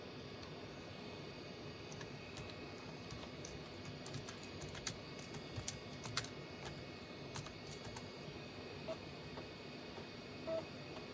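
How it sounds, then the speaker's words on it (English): Keys on a laptop keyboard click in a soft, irregular run of typing, faint and close, over a steady hum of background noise. "As much as I love the keyboards on these laptops, they're really hard to type on one-handed"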